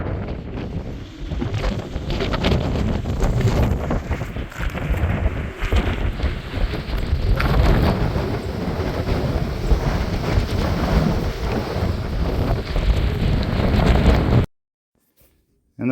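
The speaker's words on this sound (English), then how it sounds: "the winds were very strong" Strong storm winds during a May 2023 storm chase roar and buffet a microphone in a loud, constant rush for about fourteen seconds, then cut to sudden silence.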